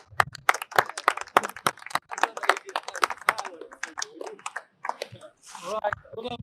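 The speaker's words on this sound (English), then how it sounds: "Round of applause, guys," Small crowd claps for two winners at the 2023 Australian Wavesailing Championships at Gerroa, sharp scattered hand claps close by, mixed with talking voices and cheering.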